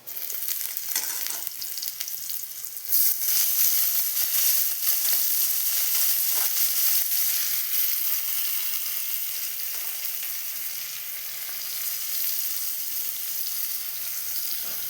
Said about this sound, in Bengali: এবার আমি আদা রসুনগুলো দিয়ে দেবো।